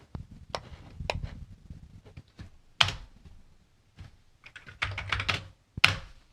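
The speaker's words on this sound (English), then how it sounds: "the floppy disk continues to click" An Amiga 600 floppy disk drive gives irregular dry clicks and clacks, some sharp and close, scattered over a low hum, with short quiet gaps between bursts of mechanical ticking.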